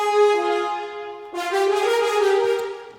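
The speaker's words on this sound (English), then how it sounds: "Alright, so the brass is layered with the strings," Orchestral brass harmonized and layered with strings plays the Final Fantasy VII battle theme as two long sustained chords, the second entering fuller and brighter, with no talking.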